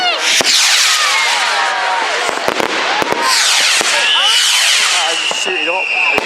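Bonfire Night firework rockets at a cricket club, with loud whistling screeches, sharp cracks and bangs overlapping continuously and voices audible among the crowd.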